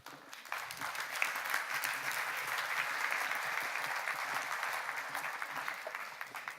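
Sustained applause from a conference audience greets partners walking onto a stage, steady and fairly full throughout with no talk over it.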